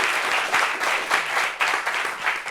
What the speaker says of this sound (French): applaudissez pour la maman